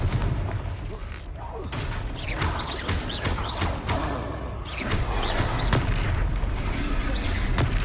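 Repeated fire-spell blasts in the Hogwarts Legacy video game, a run of booming, crashing bursts with mechanical clatter, loud and close, under game music and effects.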